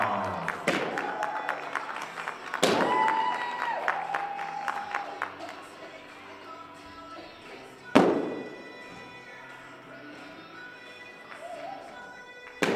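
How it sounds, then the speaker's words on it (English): An audience applauds a sparring competition winner at a martial arts grand finale, with sustained clapping from a crowd, a few loud thumps at the start and around the middle, and a steady wash of applause continuing underneath. "Let's have another big round of applause for Corey Gow."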